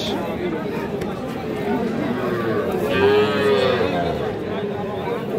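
A calf or young bull mooing, one drawn-out low call, amid a crowded Bangladeshi cattle market where desi and Sahiwal bull calves are for sale; people chatter in the background throughout.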